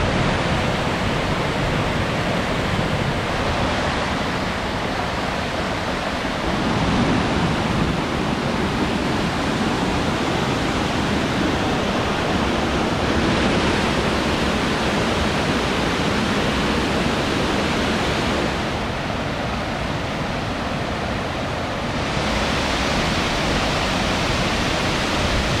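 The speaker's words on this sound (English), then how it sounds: "There's just waterfall after waterfall after waterfall." Roaring waterfall on the Falls Trail at Ricketts Glen in Pennsylvania, a dense, steady rush of falling water that stays loud and unbroken throughout, with no voices.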